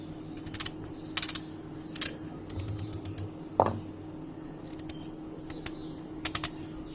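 A knife cuts through raw, deseeded pumpkin on a board, giving a scattered series of sharp, close clicks and taps at an irregular pace over a low, steady room hum.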